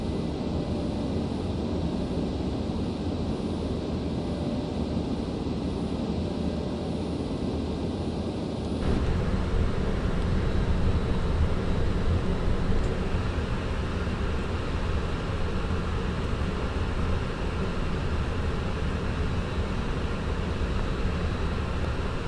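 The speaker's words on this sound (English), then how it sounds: "one more aircraft just landing over there" A passenger airliner lands at an airport in a flight simulator, a steady broadband engine and air roar filling the scene with no voices, growing slightly louder partway through.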